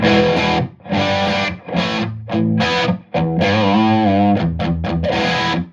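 Crunchy overdriven electric guitar chords through a Boss Katana Artist MKII amp's crunch channel with no effects, played in short strummed bursts with pauses between, loud and up close.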